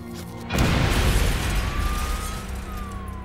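A mail bomb explosion rendered as a sound effect bursts suddenly after a brief quiet hum, a loud booming blast that decays into a rumbling tail, with a faint tonal whine drifting beneath.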